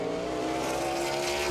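The number 81 race car of Kyle Drake on a qualifying lap at the Owosso 500 short track: a steady, loud engine drone with a sustained harmonic tone and constant roar, no variation in level.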